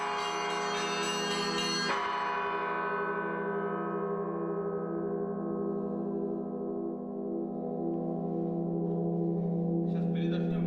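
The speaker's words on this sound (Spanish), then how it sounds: "se celebran misas y se tañen las campanas, que son nuevas" Church bells at the Solovki monastery in Russia ring out with one loud strike near the start, then a long, rich humming decay with sustained overtones, fading slowly as a faint new sound enters near the end.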